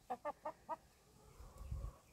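A backyard hen gives four quick, evenly spaced clucks close by, followed by soft low rustling and handling noise.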